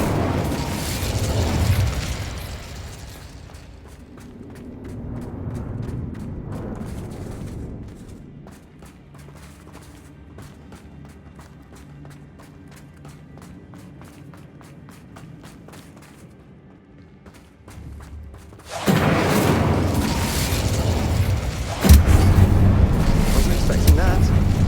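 An Incendio fire spell blasting in the Hogwarts Legacy video game: a loud burst of roaring flame and crackling at the start, a quieter rumbling stretch in the middle, then another loud roaring blast near the end with a voice speaking.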